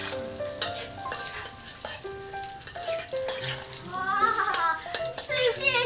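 Food stir-fries in a wok, a crackling sizzle with occasional stirring knocks, heard beneath a melodic music score that runs throughout.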